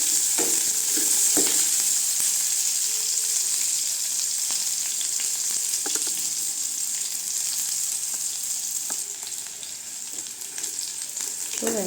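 Onions sautéing in a pan for a green field bean curry, an even bright sizzle with scattered soft stirring clicks, steady and unaccompanied by speech.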